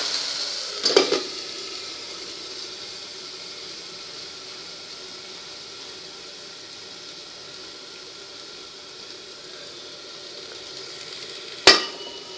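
Chopped onions frying under a lid in a pan for pithla: a steady soft sizzle throughout, with a brief clatter of the lid near the start and another sharp knock near the end.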